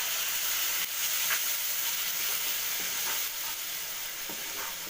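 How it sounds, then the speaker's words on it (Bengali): Onion paste is stirred into onions that are already frying and reddish-brown, a continuous bright sizzle up close with a few scraping stirs, with no talking. "এবার আমি এর মধ্যে পেঁয়াজের যে পেস্টটা আছে এটা মিশিয়ে দিলাম।"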